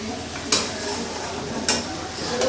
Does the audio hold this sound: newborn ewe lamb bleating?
no